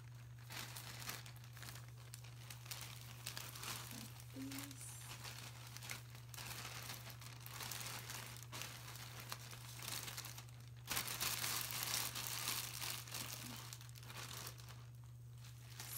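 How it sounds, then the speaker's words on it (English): A plastic bag crinkles softly around a variegated rubber plant cutting, with faint irregular rustling throughout and a brief louder burst of crumpling, all over a low steady hum. "I have this plastic bag that I'm just gonna put it in while it's rooting."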